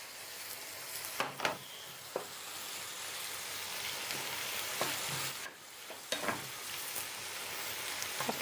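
Champignon mushrooms fry and sizzle steadily in a pan, a continuous hiss broken by clinks and scrapes of stirring at irregular moments, close and fairly quiet, without talk.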